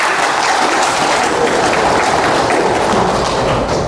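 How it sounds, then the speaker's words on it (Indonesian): Loud, dense applause from an audience at a speech gathering, sustained clapping close by for several seconds with no break. "Kita kasih aplaus untuk kita hari ini."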